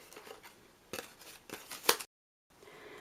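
Scissors snip through cardstock in several close, crisp cuts spaced about half a second apart, followed by a short silence and then a faint rustle.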